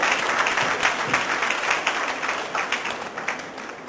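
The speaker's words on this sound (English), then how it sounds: "Have a huge round of applause for Professor Vinay Sharma sir." Conference audience at a business event gives a huge round of applause for a professor, dense and fairly loud clapping throughout that thins slightly toward the close.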